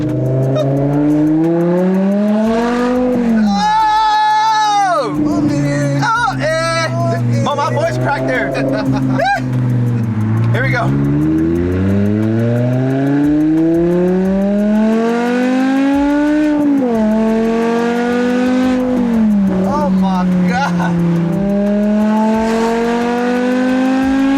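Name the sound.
BMW E60 M5 car driving and accelerating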